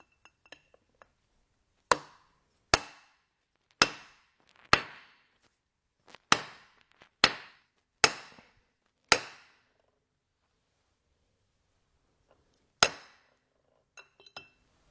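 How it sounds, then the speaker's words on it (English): A main bearing is punched into the rear cover of a DESMI ROTAN gear pump: about nine sharp metallic hammer-on-punch strikes in an irregular sequence, close and loud, with a pause before a final couple of blows. "fit it to the shaft by punching it into the rear cover"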